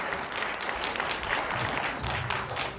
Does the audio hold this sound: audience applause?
yes